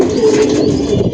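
Pigeons at a loft give a loud, close, low rolling coo that rises and falls through the short stretch, with no voices over it.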